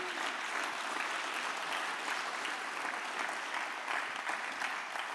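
Sustained audience applause for event organizers at a political party gathering, a thick, even roar of clapping from a large crowd, heard somewhat distantly and without break.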